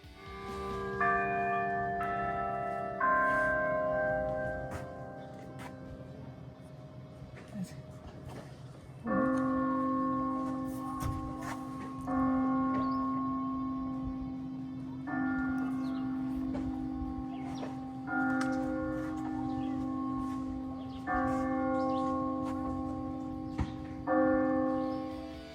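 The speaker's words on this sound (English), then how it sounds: "we could hear music playing from the chapel in the distance" Chapel bells ringing out a slow melody in the distance near a golf course in the Sky Valley, Georgia mountains, with long sustained tones in repeated phrases, moderately faint and alone.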